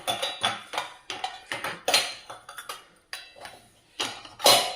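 Dishes, pots and cutlery are loaded into a Bosch dishwasher, a run of separate clinks and clatters of metal and ceramic vessels, close and irregular, with short pauses between placements.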